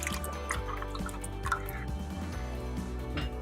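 Water poured into a pot of keema aloo matar with yogurt, close and steady, a liquid dribble and drip running throughout with small splashes, no talking.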